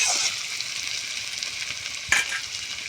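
Potatoes frying in oil in a pan make a steady, soft, close sizzle, with a brief louder crackle near the end as the contents are stirred.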